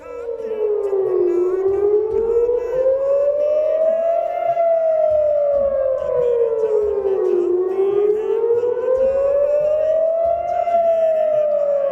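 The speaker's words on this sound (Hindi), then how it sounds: "सब में एक प्रकार से युद्ध का सायरन बजेगा।" A loud war air raid siren sounding for a mock drill wails continuously, its pitch slowly rising and falling in long, repeating sweeps.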